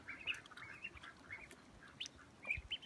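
Young two-week-old Blue Runner ducklings and adult ducks peep and quack softly at a distance, in scattered short calls over a quiet outdoor background hiss.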